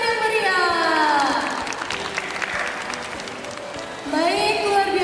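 An audience claps for a company founder at a formal event, a loud burst of applause that sags briefly mid-way and swells again, with a presenter's voice speaking over it.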